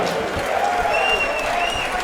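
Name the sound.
crowd applauding fighter introduction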